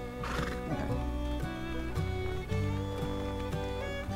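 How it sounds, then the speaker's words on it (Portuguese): An American Paint Horse Tobiano neighs in a loud, close whinny with a strongly pitched, wavering tone, with hoof clip-clops mixed in. "É um American Paint Horse Tobiano."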